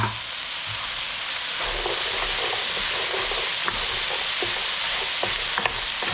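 Washed, drained chickpeas sizzle in a hot pan, a dense steady hiss with occasional stirring scrapes and pops, close and without talk.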